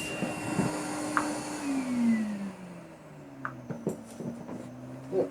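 Kärcher T9/1Bp vacuum cleaner with a powered turbohead, its motor whining and shifting in pitch as it slows, with clicks and knocks from the machine on top.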